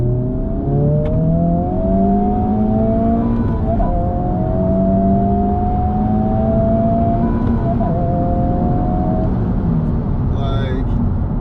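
Honda Civic Type R FL5 under hard acceleration, its engine note climbing steadily in pitch through the gears, loud and close from inside the cabin, with a brief shift dip midway and a short chime near the end.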